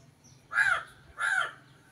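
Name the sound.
crow cawing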